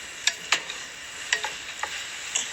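Portobello and shiitake mushrooms stirred in a pot with milk, a few sharp spoon clicks and scrapes against the metal in irregular bursts over a faint bubbling background, close and without speech.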